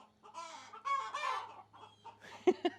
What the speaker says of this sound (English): I got 3 roosters in here.